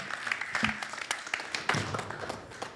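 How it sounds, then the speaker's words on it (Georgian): An audience at a conference gives a round of applause, dense, steady clapping that fills the short stretch, with a few voices mixed into the crowd noise. "აპლოდისმენტებით გავაცილოთ ბიჭები."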